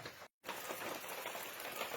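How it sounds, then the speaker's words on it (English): Steady heavy rain falling in a Himalayan hill forest in India, a dense, even hiss of drops close by, broken only by a brief silent gap near the start. "This is a very rainy day here today in the hills where I live."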